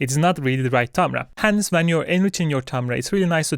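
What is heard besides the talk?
None of the usual background noises is heard.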